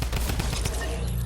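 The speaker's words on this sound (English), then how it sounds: "And drum gun to finish him off." Rapid automatic fire from a drum gun in the video game Fortnite, a dense continuous burst of close, loud shots running the full length without pause.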